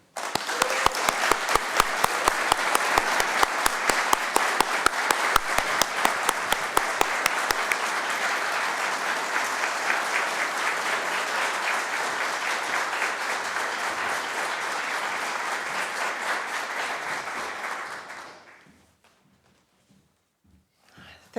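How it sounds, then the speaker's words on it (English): An audience at an award ceremony claps loudly and steadily for the winner, a dense ovation that holds strong before fading out, leaving a few scattered claps. "please join me in a huge round of applause for this year's winner"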